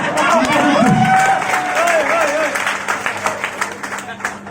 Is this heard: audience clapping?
yes